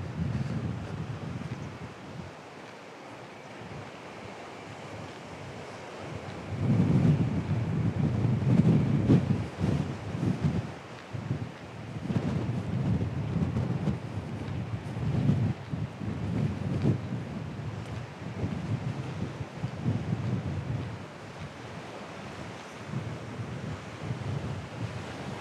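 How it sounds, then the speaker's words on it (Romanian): Wind gusting at a beach on a bay in Balchik, roaring steadily over crashing surf with louder surges in the middle and no talking. "Cam bate vântul."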